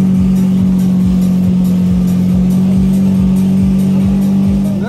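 A boat engine holds a steady drone with a rhythmic low pulsing, loud and close throughout, with no clear start or rising revs.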